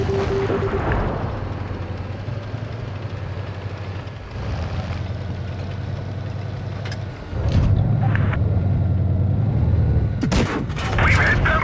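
Tank cannon shots in World of Tanks Blitz, an M4 premium tank sniping from between two hills, come as sharp loud blasts over a steady engine rumble, with a heavier burst near the end.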